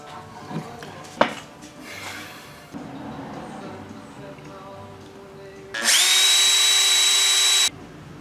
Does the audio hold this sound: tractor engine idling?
no